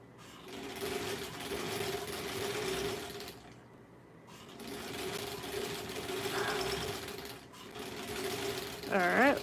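A sewing machine runs in steady bursts as a stuffed hedgehog is back-stitched, pausing briefly between runs, close and moderately loud with a voice speaking over it.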